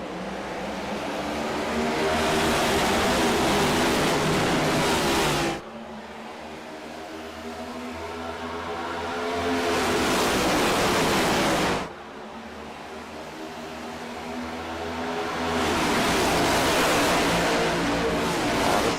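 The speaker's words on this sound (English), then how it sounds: "Listen to those cars go down the backstretch here." Race cars circling Atlanta in a sim racing game, a continuous loud roar of many engines that swells and drops in long repeating passes, each surge cut off abruptly before building again.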